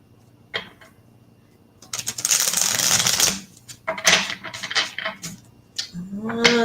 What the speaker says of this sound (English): So while I'm shuffling the card,